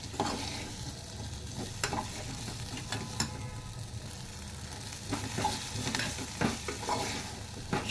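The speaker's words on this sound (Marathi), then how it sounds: "1-2 मिनिटच परतायचं आपल्याला हे" Drumstick pods with cooked toor dal being sautéed in a pan for a sour-sweet curry, with steady close sizzling and intermittent scraping stirs of a spatula throughout, no talking.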